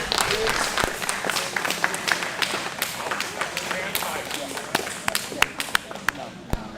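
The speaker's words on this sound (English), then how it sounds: "a round of applause for our competitors." Applause at a combat jiu jitsu event, a crowd clapping with sharp scattered claps and taps over a busy hall, with voices talking throughout.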